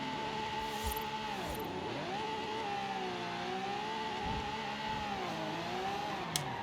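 A race car in Forza Horizon 5 launches with clutch slip, its engine droning steadily and dipping and rising in pitch several times as revs are held and modulated, close and continuous, with no voices.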